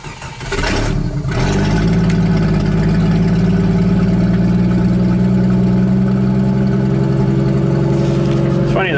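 A Stihl MS660 chainsaw starts and then idles steadily and loudly close by, its fast idle not holding, with a steady low engine drone after a brief rough start.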